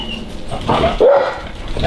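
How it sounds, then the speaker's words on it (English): Dogs barking in a residential backyard, a couple of close, sharp barks over light outdoor background noise. "go back inside while the dogs are playing"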